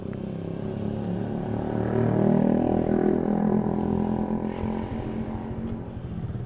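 Suzuki Satria FU 2014 motorcycle on a test ride under overcast skies, its engine droning steadily up close with a swell in revs midway, no talking.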